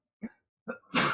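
A character in the video game Death Stranding sneezes: two short throaty wind-ups followed by a loud, sharp, noisy burst close to the listener.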